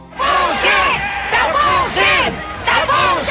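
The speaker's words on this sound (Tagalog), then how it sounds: "lintik na ang hiyawan at palakpakan ng kanyang mga taga-suporta" A boxing crowd roars in repeated swelling waves of cheering and yelling for the Argentinian fighter Gauto before a bout, loud and close, with chant-like rising and falling cries.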